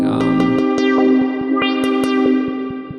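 A sustained synthesizer tone with harsh, gritty distortion, pulsing with rhythmic clicks and shifting harmonics, loud and close with no talking.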